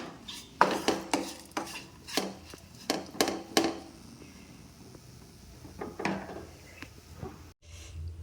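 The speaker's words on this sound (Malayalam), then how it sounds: "നന്നായി ഇളക്കി കൊടുക്കാം" Drumstick leaf stir-fry with grated coconut turned in a pan, a series of sharp spatula knocks and scrapes in an uneven rhythm, close and moderately quiet with no voices.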